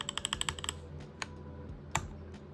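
Rapid clatter of keystrokes on a Keychron K12 compact wireless keyboard, a quick run of crisp clicks followed by a few isolated taps, close and fairly quiet.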